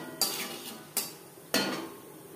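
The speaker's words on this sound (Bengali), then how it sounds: "15-20 সেকেন্ড জিরে ভেজে নেওয়ার পর দিয়ে দেবো কাঁকরোল।" A small spoonful of whole cumin seeds crackles in hot refined oil with three sudden spitting bursts, each fading quickly, over a quiet background.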